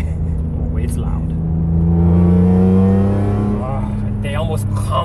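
A 2003 BMW E46 M3 fitted with a Karbonius CSL carbon intake and a loud exhaust revs up and holds a steady rising drone, then eases off near the end, close and loud.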